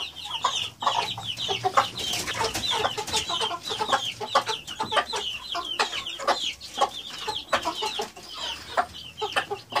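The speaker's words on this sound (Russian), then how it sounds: "А другие куры пришли смотреть на это шоу." Hens cluck in rapid bursts around a coop of Ross-308 broiler chicks, close and busy throughout, with sharp calls overlapping a steady murmur of the flock.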